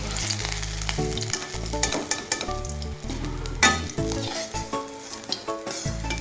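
Eggplant pieces fry in hot oil until reddish, a loud, crackling sizzle close by with frequent clinks and scrapes of a spatula against the pan and no voices.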